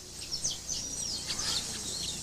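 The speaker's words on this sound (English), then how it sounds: "There is a weaver bird colony in a tree close to the chief's hut, a sign of good fortune." A colony of weaver birds chatters and chirps in a tree close to a village chief's hut in Madagascar, a dense mix of high, overlapping calls at moderate volume.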